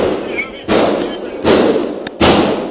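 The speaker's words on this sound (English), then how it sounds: "Horrific sounds of gunfire ring through Nashville's Covenant Elementary School." Gunfire from a high-powered rifle inside Nashville's Covenant Elementary School comes as three loud, heavy booming bursts spaced under a second apart over a constant rough background noise.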